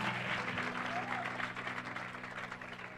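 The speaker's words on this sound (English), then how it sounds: "Clap hands for Jesus." A church congregation claps for Jesus in a sustained, fairly rhythmic burst of many hands with low background hum, moderately distant and fading slightly toward the end.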